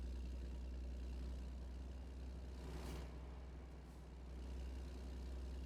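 A Kenworth truck idles in American Truck Simulator, a steady low engine rumble held throughout, with a brief hiss near the middle like an air brake release.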